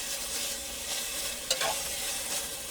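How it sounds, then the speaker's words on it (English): Minced garlic and onions sizzle in a pan for red beans and rice, a soft continuous frying hiss heard close, broken once by a short scrape of stirring. "Get that in there with the onions as they cook."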